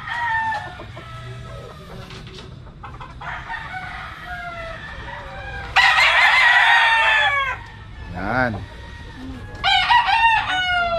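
A lemon-colored brood stag rooster crows several times, loud and close, with clucking from other fowl between the calls and no talk.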